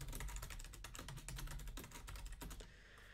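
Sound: typing a new password on computer keyboard

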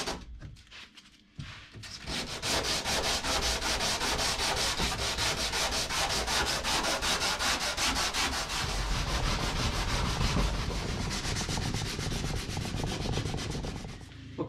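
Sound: sanding with 80 grit sandpaper

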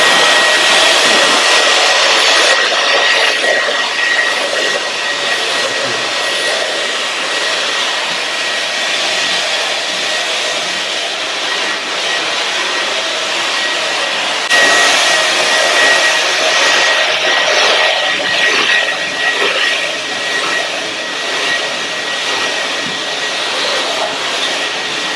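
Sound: Dyson V11 Torque cordless vacuum running on boost mode

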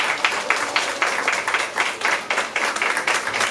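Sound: applause

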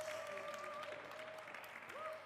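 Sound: small audience applause

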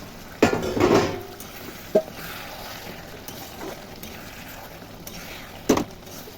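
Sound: lid lifted off a cooking pot of muri ghonto

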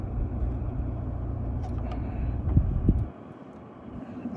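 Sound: 4x4 vehicle wheel spinning on a hill

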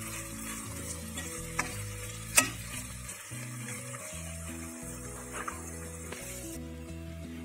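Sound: stirring jackfruit seed mixture in a frying pan

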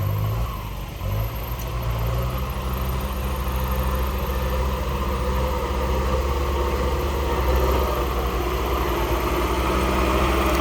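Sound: tractor engine running

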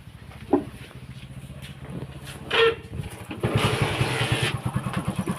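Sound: Hero Passion Pro motorcycle engine starting

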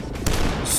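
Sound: gunfire from enemies in the video game DUSK

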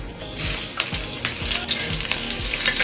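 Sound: sautéing garlic and onion in oil

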